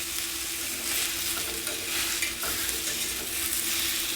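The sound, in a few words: banana pieces shallow frying and being flipped in a pan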